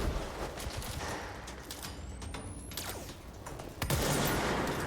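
Video game gunfire in Control crackles in dense, rapid bursts under a steady noisy backdrop, with a louder burst near the end and no speech.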